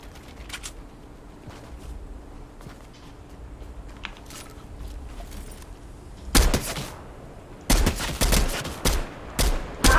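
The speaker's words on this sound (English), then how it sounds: "Shoot, where the heck is that getting shot from?" In a Fortnite match, quiet game ambience and faint shuffling give way to loud, close bursts of rapid gunfire that repeat in several sharp volleys over the final seconds.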